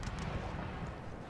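Cannon fire booms in the Napoleon Total War battle game, a dense low rumble of artillery blasts rolling together for a moment, loud and muffled.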